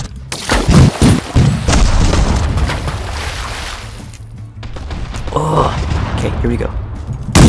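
Pirate ship cannons fire in The Last Leviathan naval battle game, loud repeated booms and crackling blasts clustered early and again near the end, with someone talking between and over the shots.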